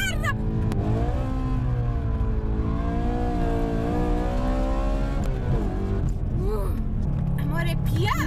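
A rear-wheel-drive BMW M3 slides sideways on a wet road, its engine revving loud and steady with rising and falling pitch throughout, while people talk over it.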